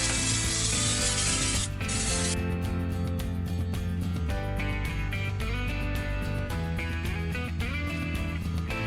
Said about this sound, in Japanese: 軽くサンドペーパーでこすってみました。